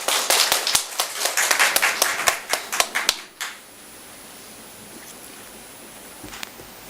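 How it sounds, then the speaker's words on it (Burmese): A church congregation bursts into sharp, rapid clapping to welcome the preacher, loud and close for about three seconds, then stops abruptly, leaving quiet room tone with a few stray claps afterward. "အားလုံးလက်ခုပ်တီးလျက်အာရပါရကြိုဆိုကြပါစို့"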